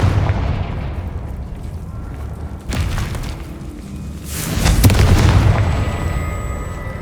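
Confringo fire spell explosions in the Hogwarts Legacy video game, a series of booming blasts with a crackling burst midway and a bigger roaring explosion later that slowly decays.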